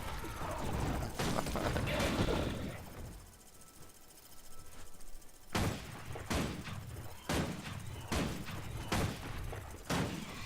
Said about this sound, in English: if I attack this bat here, my turret shoots the opposite direction